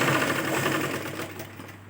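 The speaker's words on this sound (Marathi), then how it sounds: "ज्याच्यावर आपण शिलाई मारली होती त्याच्यावरच आपण शिलाई मारतोय." Sewing machine running continuously as it stitches a blouse piece onto its lining, a fast even mechanical whirr close up, gradually easing off toward the end with no talk.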